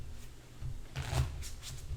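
Playing cards shuffled by hand at an Omaha poker lesson table, a soft riffling rustle that swells in two or three short bursts, close and fairly quiet.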